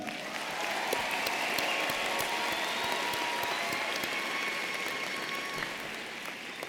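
Sustained applause from a crowd at a university commencement ceremony, a dense and even wash of clapping that carries on for several seconds and fades slightly toward the end.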